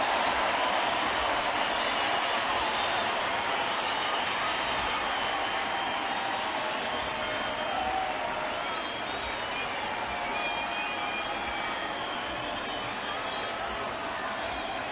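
Baseball crowd at a Cleveland at Detroit game roars in a continuous, steady wall of cheering and applause, broad and sustained with no break.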